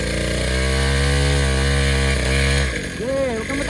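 A kid's mini motorcycle engine revs up loudly and holds a steady high drone, then its pitch wavers and drops near the end while an adult voice talks over it.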